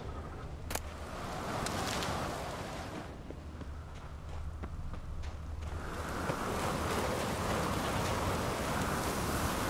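Steady hiss of rain falling in the video game The Witcher's Skellige region, dense and continuous, growing slightly louder toward the end, with no voices.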